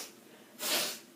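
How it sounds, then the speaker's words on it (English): A single short, close sniffle through the nose during an indoor pastel painting session, a quick breathy hiss rising and fading against quiet room tone. "I'm sorry about the sniffles"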